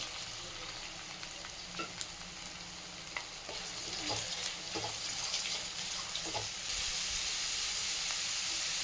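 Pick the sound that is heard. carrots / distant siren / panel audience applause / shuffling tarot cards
carrots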